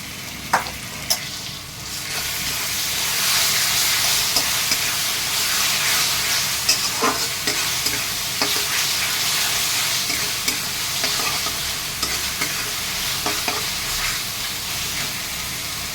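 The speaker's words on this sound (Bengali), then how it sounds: "পেঁয়াজ বাটাটা একটু ভাজা ভাজা হয়ে গেছে। এর মধ্যে আমি আদা রসুন গোলমরিচ আর কাঁচা লঙ্কা বাটাটা দিচ্ছি।" Ginger, garlic, pepper and green chilli paste fries with onion paste in a pan, giving a loud, steady sizzle and hiss for the whole stretch, broken by occasional clicks of stirring and no speech.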